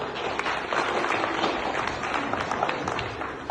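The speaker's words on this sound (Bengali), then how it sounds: "আজকে এই আয়োজনের আয়োজকদের জন্য জোরে একটা করতালি" An audience at a Pitha festival gathering applauds the organisers with a burst of sustained crowd clapping, dense and fairly loud, swelling and then tapering over a few seconds.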